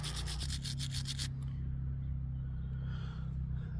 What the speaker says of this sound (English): So with this sandpaper, I'm just going to file it a little bit just to get whatever might be in between here.